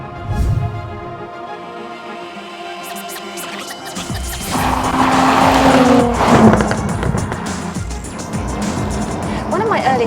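A Jaguar F-Type V6 S sports car drives hard with its engine rising and tires squealing midway, loud and close, with a voice talking over parts of it.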